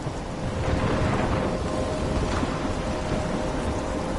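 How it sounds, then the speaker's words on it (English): A thunderstorm in the video game Life is Strange: a dense, steady roar of heavy rain and wind with low thunder rumbling underneath, loud and continuous throughout, with no speech. "I'm trapped in a storm?"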